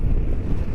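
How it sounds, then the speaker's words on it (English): Brief, steady wind buffets the microphone outdoors on a sunny Canary Islands day, a loud, low, rumbling rush with no pauses. "Bit windy, but I'll put up with a bit of wind"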